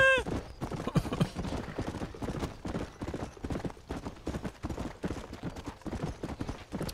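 Steady galloping horse hooves while riding in the Red Dead Redemption video game, a continuous rhythmic clip-clop that runs throughout at moderate loudness with no speech over it.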